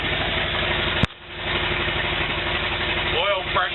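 A 1949 Willys engine idles steadily and loud close by, a continuous low rumble with a brief sharp click near the start; a few chirping tones rise over it toward the end.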